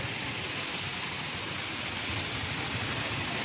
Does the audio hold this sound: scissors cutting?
no